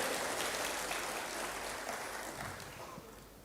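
A church congregation claps in applause, a dense, steady wash of many hands at moderate distance that slowly fades toward the end, with no talk over it.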